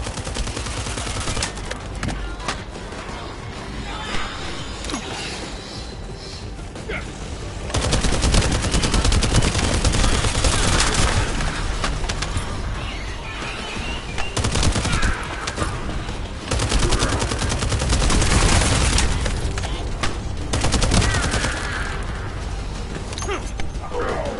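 Heavy gunfire from the video game The First Descendant, bursts of rapid automatic shots and explosions layered over a dense battle soundscape with game music, loud and continuous with surges in intensity.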